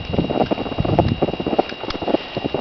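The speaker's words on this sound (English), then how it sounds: "Well, I'm going for a walk." Footsteps crunching through about nine inches of fresh snow during a January snowstorm, a steady rapid series of soft compressing steps, close and continuous with no voices.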